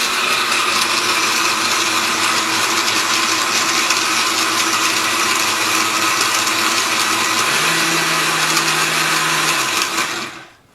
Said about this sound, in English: now let's put on our blender. Start it on the low speed